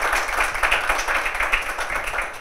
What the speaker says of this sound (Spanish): Un aplauso a Hans.